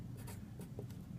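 Pen or marker strokes scratching briefly on a surface while the word nitride is written out by hand, several short scribbles over a steady low background hum.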